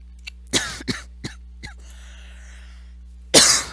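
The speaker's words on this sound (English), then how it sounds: "I'm coughing too much." A person coughs several times in sharp, uneven bursts, pauses with a faint rasp, then lets out one last loud cough, close to the microphone in a quiet room.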